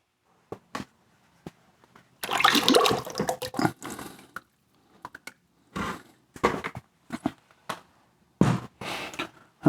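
Liquid clay slip is poured off the edge of a plaster mold in irregular bursts: gurgling, splashing pours with dripping between them, close and fairly loud, separated by quiet gaps.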